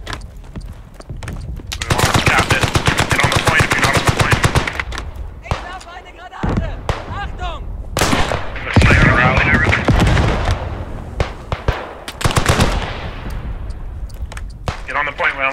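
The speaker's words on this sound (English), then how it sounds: "I got machine gun nests on top of the hill there." Machine gun nests in the Beyond The Wire video game, on a Vimy Ridge battlefield, fire loud rapid bursts, with long sustained rattling stretches broken by pauses, single shots and scattered distant reports.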